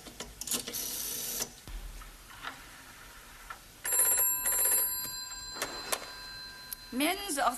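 A telephone rings in the receiver while a hospital is called, bursts of electronic bell tones alternating with ticking and quieter stretches, with voices heard briefly.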